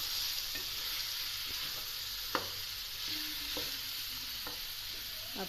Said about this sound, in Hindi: अब साथ ही इसमें मैं डालती हूँ ये मसाले। ऐसे हल्का हल्का भून के